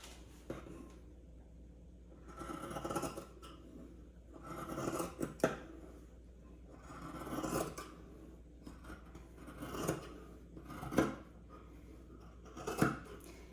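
Scissors cut strips across folded material, stopping short of the fold, with about half a dozen rasping cutting strokes spaced a second or two apart, close and fairly quiet.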